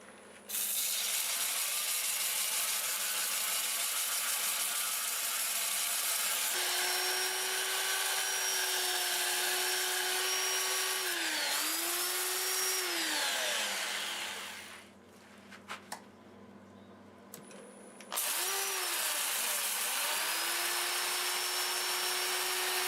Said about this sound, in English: I'll run it in reverse, sand the outside